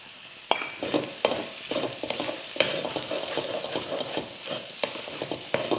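Okra already sautéed being stirred into beaten egg in a pan, giving a steady sizzle with repeated close scraping and clinking strokes of a spoon against the pan, and no talking.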